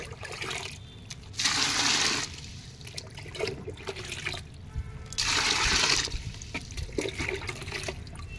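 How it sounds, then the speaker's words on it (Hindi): Water pours steadily into a container in two separate splashing runs, with quieter handling noises in between. "इसमें आपको पानी ऐड कर दो।"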